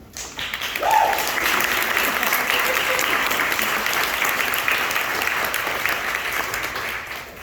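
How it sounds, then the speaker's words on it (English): Sustained applause from a large audience at a nursing school graduation, steady and fairly loud throughout, with a brief cheer near the start. "please take a moment and give yourself a round of applause"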